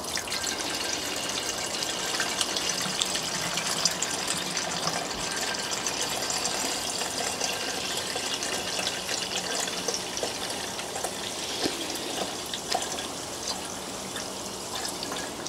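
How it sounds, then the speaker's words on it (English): Water being poured into the cooling system and expansion tank of an old, long-abandoned BMW, a continuous splashing, trickling pour heard up close with no talking. "all we can do now is add water and see if it leaks out."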